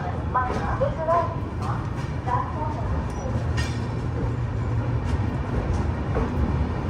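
A Sampark Kranti Express pulling away from Hazrat Nizamuddin station after a stop: a steady, close low rumble of rolling wagons that continues throughout, with a voice talking over it.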